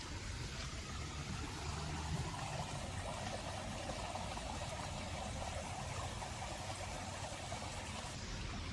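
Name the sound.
flowing water of recreated stream, Las Vegas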